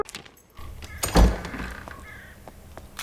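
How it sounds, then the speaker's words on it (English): A door opens in the dungeon video game Dark and Darker with a low wooden thunk and a brief creaking rumble about a second in, set over quiet game ambience. "I hear the door open there."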